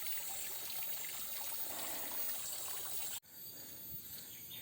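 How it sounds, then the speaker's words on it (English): Tiny waterfall trickling down forested slopes beside a bamboo grove, a steady soft hiss of running water, faint and continuous, with a brief break near the end before the flow resumes a little quieter. "It's tiny waterfall running down from the slopes."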